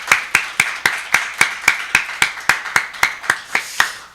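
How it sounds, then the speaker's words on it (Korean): Congregation in a Sunday church service clapping in unison, about seventeen sharp, evenly spaced claps in a steady rhythm, loud and close with no talking. "하나님께 우리 다 같이 마음을 다하여서 하나님께 영광의 박수를 올려드렸으면"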